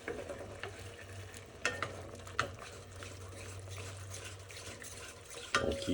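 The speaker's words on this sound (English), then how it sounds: "I'll keep stirring this." Lemon chicken sizzles softly in a pan while being stirred, with a low steady frying hiss broken by a few scraping knocks of the utensil against the pan.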